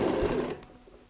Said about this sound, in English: go and sew a straight stitch